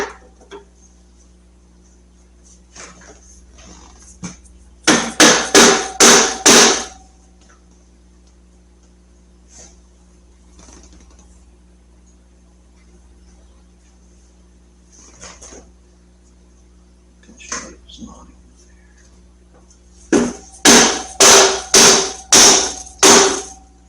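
Hammer blows drive a front axle through the fork legs of a Road King motorcycle: a quick burst of about five loud metallic strikes, a quiet gap with light handling noises, then a second burst of about six strikes.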